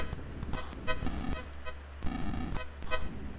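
In the 1986 Commodore 64 game The Movie Monster Game, synthesized car horns honk repeatedly in short beeping bursts over a steady low electronic drone, fairly loud and close.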